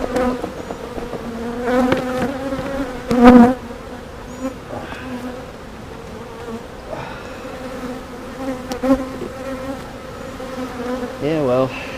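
Honeybees buzz around an open hive during an inspection, a continuous droning hum with individual bees swelling louder as they fly past close by, no speech.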